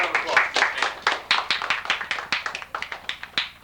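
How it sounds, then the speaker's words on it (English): A small high school homecoming audience gives a round of applause. The claps are distinct and uneven, with individual hand claps standing out close by rather than blending into a wash. "Let's have a nice round of applause."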